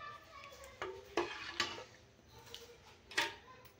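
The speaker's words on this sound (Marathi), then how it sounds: "आपण मस्त ह्याला आता छान अशी उकळी येऊ देणार आहे" Dal simmering in a pot while a spoon stirs it, giving a run of soft, close scraping clicks at an irregular pace over a faint, steady bubbling.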